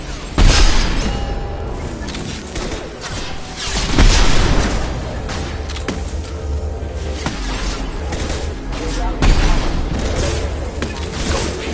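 Mass Effect 2 combat erupts in heavy booming blasts, a grenade explosion among them, with a loud thump early and more big impacts at intervals over ongoing crashing, clattering battle noise.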